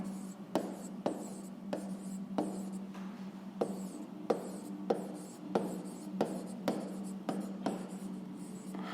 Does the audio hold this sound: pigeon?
no